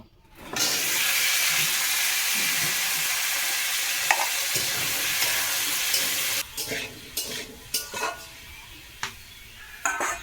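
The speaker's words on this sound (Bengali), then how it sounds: "এখন আলুটাকে একটু ভাজা করব" Potatoes frying in a pan, a strong steady sizzle for several seconds that then breaks into intermittent crackles and scraping stirs as the food is moved around, no talking.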